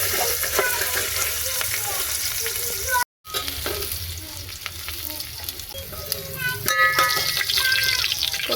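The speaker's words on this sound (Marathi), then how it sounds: "कांदा, कढीपत्ता, जिरे आणि मिरची, कट केलेली मिरची मस्त लाल परतून घ्यायचं." Onion, curry leaves, cumin and cut chillies sizzle and fry in a pan while being stirred, a steady close crackle throughout with a brief dropout partway and clinking of a spoon.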